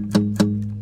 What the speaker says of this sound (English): I played an acoustic guitar.